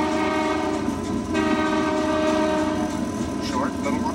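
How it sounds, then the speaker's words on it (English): A loud, sustained train whistle blows steadily from the cab of a moving Canadian passenger train over its rumble, with a brief wavering pitch near the end. "So that's a whistle."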